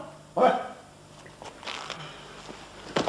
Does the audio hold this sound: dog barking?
yes